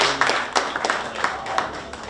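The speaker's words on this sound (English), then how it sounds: "so that we can clap for you" Scattered hand claps from a small audience at an International Youth Day event in Rwanda, a handful of distinct, fairly close claps spaced unevenly over a quiet room.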